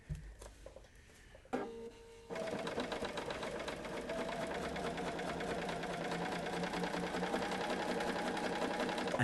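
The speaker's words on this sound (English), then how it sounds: "and back to the sewing machine." A sewing machine runs steadily, its fast rhythmic stitching whirring close by after a few brief handling noises at the start.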